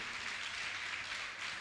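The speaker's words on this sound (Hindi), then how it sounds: "जोरदार ताली बजाकर इनका सम्मान करें" Steady, dense crowd applause at a Jain religious gathering honouring donors, a continuous wash of clapping with no break across the short stretch.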